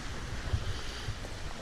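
Sea waves wash steadily on the Greek coast under buffeting wind noise, a continuous low roar with no distinct breaks and no voices.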